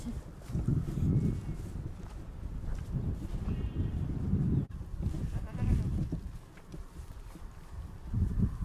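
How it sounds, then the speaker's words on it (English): A billy goat bleats in a few drawn-out, wavering calls close by, with brief pauses between them and light rustling around. "Henri Ombre, our Billy goat"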